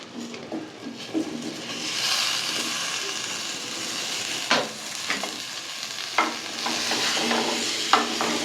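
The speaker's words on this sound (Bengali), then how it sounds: "এখন এর ভিতরে আলু দিবে আলু দিয়ে ভালোভাবে ভেজে নিবে" Potatoes fry with spices in a pan as a steady hot sizzle, broken by several sharp scraping stirs of a spatula, close and moderately loud with no talking.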